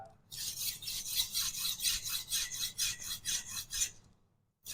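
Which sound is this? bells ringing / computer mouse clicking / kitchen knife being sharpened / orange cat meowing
kitchen knife being sharpened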